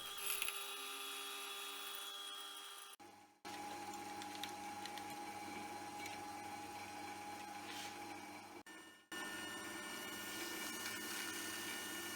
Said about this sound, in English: I have to turn the body around and drill from the other end to get that 6mm right through.